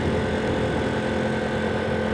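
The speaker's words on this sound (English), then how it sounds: "So we're charging up with the generator just in case we need to throw in some extra revs." A generator runs aboard a sailboat at anchor, a steady unbroken engine drone with a dense broadband hum that holds an even level from start to finish.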